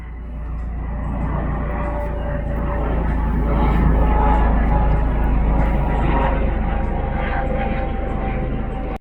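A loud, steady helicopter engine roar drones overhead, holding strong and even throughout before cutting off abruptly.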